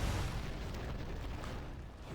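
A tunnel building collapsing in an explosion in the video game BattleForge, a dense, continuous rumbling roar that stays loud for the whole span without clear separate blasts.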